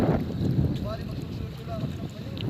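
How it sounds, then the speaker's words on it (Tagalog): A breeze blows across a fishpond, rushing steadily as low wind noise against the microphone, with faint bird chirps above it. "Napakasarap ng simoy ng hangin."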